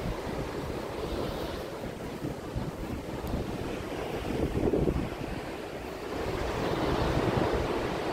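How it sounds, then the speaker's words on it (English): Pacific Ocean surf rolls in at Devil's Punch Bowl on the Oregon coast, a continuous broad roar of waves mixed with gusting wind buffeting the microphone, swelling slightly toward the end. "there's the Pacific Ocean"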